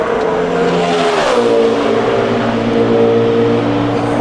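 A NASCAR Sprint Cup car on a 2010 qualifying lap at Charlotte Motor Speedway roars loud and close, its engine note dipping briefly and then climbing again through a sustained high-revving drone.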